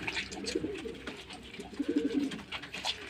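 Soft, low cooing from pigeons, a couple of gentle throaty phrases against faint background noise.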